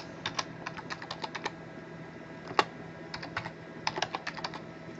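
Typing on a computer keyboard: quiet, close key taps in quick irregular bursts with short pauses and one louder keystroke, with no talking.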